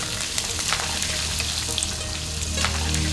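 Onion fries in a generous amount of hot oil while cooking taki fish, a continuous close sizzle with scattered crackles and stirring scrapes, fairly loud and with no talking.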